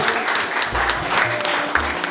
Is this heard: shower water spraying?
no